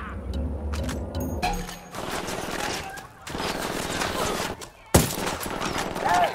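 Gunfire in Ghost Recon Wildlands rattles in dense, continuous volleys with a sharp crack near the middle, while voices speak faintly beneath the shooting.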